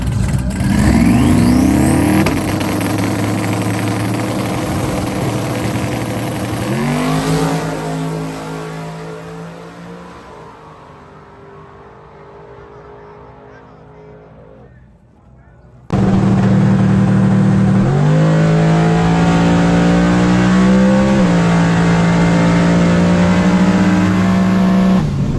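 Drag race at the line between an 89 Mustang and a 01 Camaro with a 325 cubic inch LS V8, engines droning loud and steady, one fading away before a close, loud rev takes over, with no talk.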